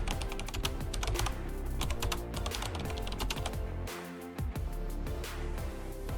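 Rapid, crisp keystrokes tap on a computer keyboard in a continuous run, close up, over a steady tonal background sound.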